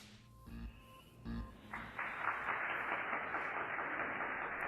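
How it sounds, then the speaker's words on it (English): Canned applause on a home shopping broadcast cuts in abruptly after a couple of short tonal beeps and then holds as a steady, dense wash of clapping at moderate volume. "That canned applause would have been cheesy and laughable if used in like the age of like Laverne and Shirley."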